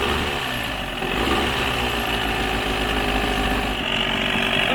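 A 1982 Mercury 40HP outboard motor runs steadily just after starting, a loud, buzzy two-stroke drone heard close up without pause.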